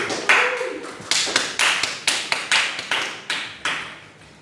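Classroom applause for a student, heard as a run of about a dozen distinct sharp claps or taps spaced through the clip with no talk over it, sounding more like scattered slaps than a dense round of clapping.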